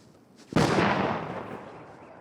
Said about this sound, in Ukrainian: Цей гучний вибух результат знешкодження смертоносного боєприпасу.